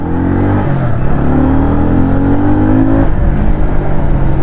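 A 2023 TVS Ronin 225 BS6 motorcycle engine hums steadily while riding, pitch rising briefly as it revs up, then easing off and settling into a continuous drone.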